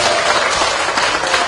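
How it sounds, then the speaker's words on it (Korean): An audience at a Korean book concert and arts-troupe performance applauds, giving a dense, steady burst of clapping throughout. "박수 한번 주세요."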